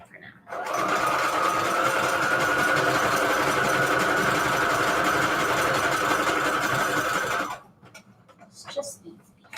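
A sewing machine runs a zigzag stitch through paper strips for Christmas journal cards, a loud continuous whir for about seven seconds before stopping, followed by faint handling sounds.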